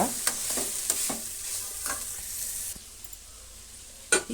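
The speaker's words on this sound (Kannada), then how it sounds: "ಅದು ಒಂದು ನಿಮಿಷ ಫ್ರೈ ಆದರೆ ಸಾಕು" Grated radish frying in a pan for rice bath hisses under quick scraping stirs, a burst of spoon strokes early, then quieter sizzling and a final clatter.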